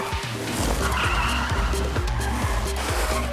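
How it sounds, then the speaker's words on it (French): A car skids on a race track, tires squealing over a revving engine in repeated pulses, loud and close with no talking. "Tu dérapes. Tu dérapes comme une pro."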